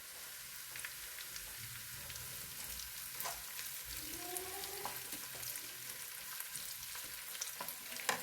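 Carrots and beans stir-fry in vegetable oil left from frying chicken, a soft continuous sizzle with light crackles and faint stirring, fairly quiet and steady throughout.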